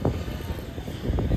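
A radio-controlled model helicopter flies at a lake-area RC club field, its steady engine and rotor drone continuous and moderately loud, with no talking.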